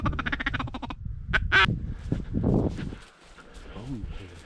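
Small ducks quack in short bursts during a duck hunt in Turkey, close and fairly loud, mixed with squawks and faint talk between the calls.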